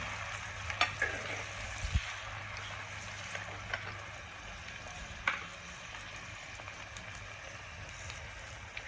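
Onions fry in a pan, making a faint, steady sizzle with a few soft clinks and knocks from the cookware scattered through it.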